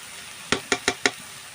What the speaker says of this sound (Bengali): এবারে আমি শাকটাকে কিন্তু কষিয়ে কষিয়ে ওই সর্ষের কাঁচা গন্ধটাকে কিন্তু আমি মেরে নেব